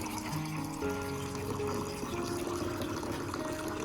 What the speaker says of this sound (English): add approximately 500 milliliters of clean water to the nutrient solution to dilute the fertilizer